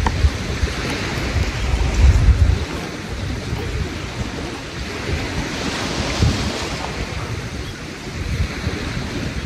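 Sea waves at a beach, a continuous wash of surf with wind buffeting the microphone, swelling and easing in slow surges, loud and close with no talk over it.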